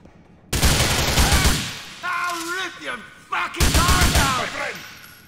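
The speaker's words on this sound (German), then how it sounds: "Na, ich schieß wieder gegen Kisten." Gunfire while shooting at crates in GTA IV: loud bursts of rapid shots, starting abruptly, stopping, then resuming, with game speech and voices mixed in between.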